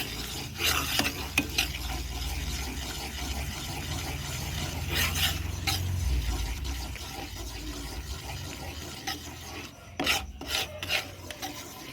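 Moong dal halwa ingredients lightly frying on a low flame while a spoon stirs and scrapes through them, a steady rasping scrape with soft sizzle underneath, close and continuous, with no talking.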